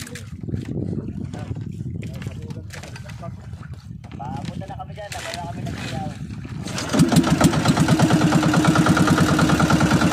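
A small fishing boat's motor idles under chatter among several men, then revs up loudly and runs steadily at higher speed for the final seconds.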